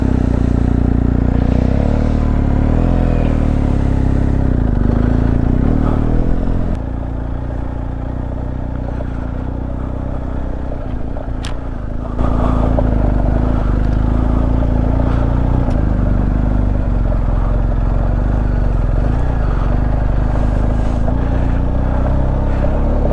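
A BMW GSA adventure motorcycle in Enduro Pro mode rides along an unpaved byway, its engine droning continuously up close with rough clattering over the terrain and a dip in loudness midway.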